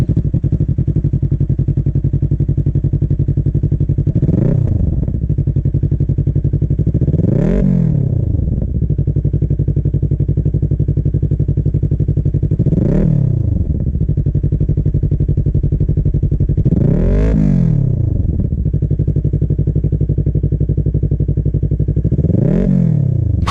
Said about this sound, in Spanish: Hablando del sonido del motor, la verdad es que el sonido que viene de fábrica es rico, suavecito, es un ronroneo